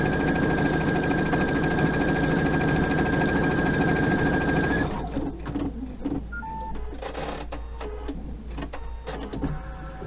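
Embroidery machine sewing a channel stitch up the center of an in-the-hoop feminine pad, a fast, steady mechanical whir that stops about halfway, leaving quiet clicks and handling noises.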